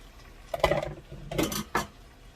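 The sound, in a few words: green peppers and onions added to pan of seasoned meat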